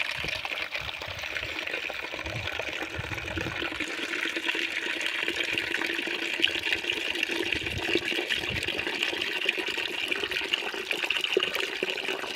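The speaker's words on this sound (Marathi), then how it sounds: "कसा आवाज येतो पाण्याचा" Water runs from a tap or outlet on a farm, used for washing hands and feet, a steady moderate splashing flow lasting throughout with no voices.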